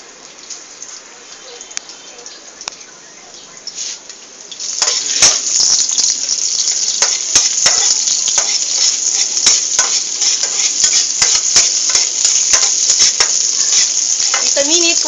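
Chopped onion hits a hot pan for a stovetop vegetable sauté and sizzles loudly and steadily from the midpoint on, with scattered stirring clicks. Quieter kitchen sounds come before it.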